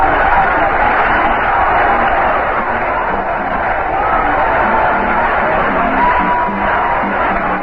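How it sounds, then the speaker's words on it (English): A big baseball crowd at Shea Stadium during Game 5 of the NLCS between the Mets and the Reds, giving a loud, steady roar that fills the whole stretch without a break. "The big crowd here at Shea starting to settle back in their seats to wait"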